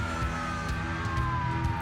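A police car siren wails in the video game Battlefield Hardline, a steady tone over a rumbling vehicle engine that persists throughout, fairly close, with no voices.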